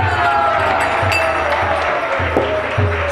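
Continuous crowd cheering and applause fill a temple hall after a chanted Hare Krishna kirtan, loud and steady throughout with a low droning hum beneath and occasional sharper claps.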